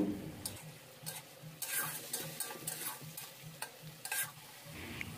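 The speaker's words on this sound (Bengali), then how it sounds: "এবার সব কিছু একটু হালকা করে ভেজে নেব।" Onion paste, nigella seeds and chopped chilli frying in oil, a soft steady sizzle with repeated scraping strokes of a spatula against the pan, close and quiet, no talk.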